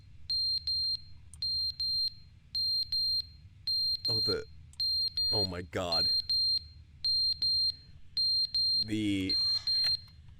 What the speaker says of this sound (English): smoke detector. Jeez, it fell off the freaking wall.